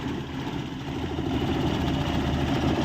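A car engine idles with heavy vibration, in need of a silencer replacement, making a steady, low, rumbling drone that stays even and close throughout, with no speech.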